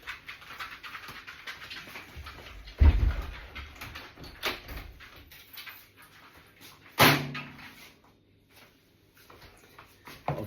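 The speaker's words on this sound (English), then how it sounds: "I'll just shut the back door" A back door thuds shut with a sharp bang partway through, earlier knocks and a dog panting and moving about in a domestic room, with low background rustle.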